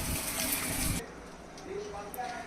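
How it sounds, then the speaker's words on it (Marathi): Heated water gushes steadily into fried masala in a pot to make gravy for a fish curry, a loud close pour lasting about a second before it stops and leaves quieter sounds. "मी आता पाणी टाकून घेते गरम केलेलं पाणी"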